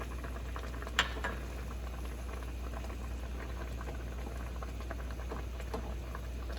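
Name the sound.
chicken piccata sauce simmering in pan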